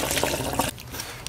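Fuel gushes into the tank of a Volkswagen Golf in a loud, close, continuous pour that cuts off abruptly partway through, leaving a faint trickle.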